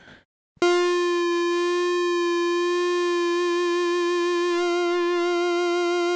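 A bright synthesizer tone sounds after a brief pause and holds steadily, its pitch wavering gently in a slow LFO-driven vibrato.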